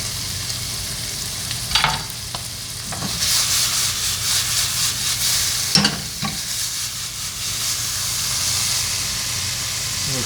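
Shallot tossed into a pan of garlic cauliflower rice, which sizzles and hisses steadily. Stirring scrapes come through close by, with a few sharper scraping bursts early and midway.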